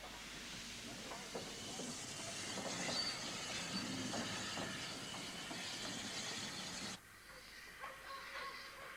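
Southern Railway Q-Class steam locomotive number 541, built in 1939 at Eastleigh Works, heard as a broad hiss of steam and rolling rail noise, fairly faint and continuous, cutting quieter near the end.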